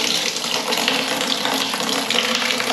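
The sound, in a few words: water filling a bucket for a tabo shower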